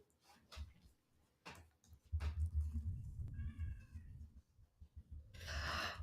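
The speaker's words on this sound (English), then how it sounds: "Can you hear that meowing?" A cat meowing indoors, with a few short quiet meows and mews scattered among low rumbling handling noise and a brief breathy sound at the end.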